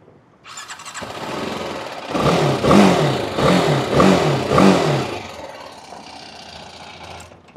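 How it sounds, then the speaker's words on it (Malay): A 2017 BMW G310GS motorcycle starts up and revs in several sharp, loud bursts close by, then settles back to a steady idle. "jom kita dengar bunyi motor ni"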